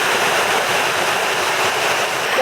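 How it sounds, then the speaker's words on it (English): Waterfall pouring at a resort swim-up bar in the Riviera Maya, a loud, dense, continuous hiss of falling water close by with no let-up. "Get to go under the waterfall every time."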